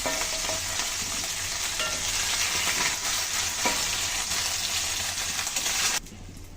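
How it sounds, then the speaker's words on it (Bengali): Baim eel fish fry lightly in oil, a loud, dense, continuous sizzle close up that cuts off abruptly near the end, leaving a quieter hiss. "মাছগুলো তো হালকাভাবে ভেজে নিলাম, যেহেতু বোনা করবো তো অতিরিক্ত ভাজবো না।"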